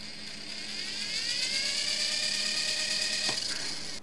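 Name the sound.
Esky Lama V4 RC helicopter motor spinning up with throttle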